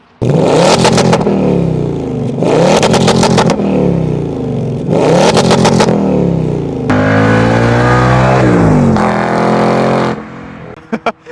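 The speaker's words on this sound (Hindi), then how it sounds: "This vehicle has active exhaust, take a listen." A 2025 Ford Mustang GT convertible's 5-litre V8 with active exhaust revs hard three times in quick bursts, then holds a long, loud roaring rev before cutting off, close and unaccompanied.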